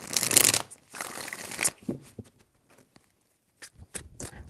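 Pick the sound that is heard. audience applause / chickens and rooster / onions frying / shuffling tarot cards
shuffling tarot cards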